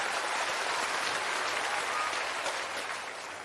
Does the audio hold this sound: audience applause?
yes